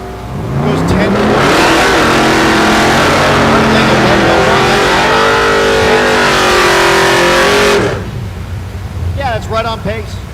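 A drag racing car with a naturally aspirated small-block engine launching at Thunder Valley in Noble, Oklahoma: a loud, close, sustained full-throttle roar with rising engine pitch, then cutting off sharply and leaving a fainter engine note.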